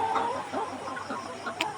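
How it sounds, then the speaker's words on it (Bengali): A flock of chickens clucking and murmuring close by in a poultry shed during extreme heat, continuous overlapping calls over a faint mechanical hum. "এই যে মুরগিগুলো হা করে নিঃশ্বাস নিচ্ছে"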